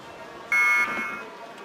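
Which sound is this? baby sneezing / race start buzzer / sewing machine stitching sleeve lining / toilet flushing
race start buzzer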